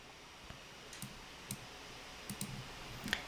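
A computer mouse clicking, a few faint, sharp clicks spaced irregularly over quiet room noise with no voices.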